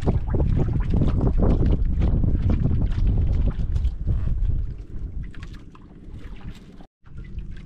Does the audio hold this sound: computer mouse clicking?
no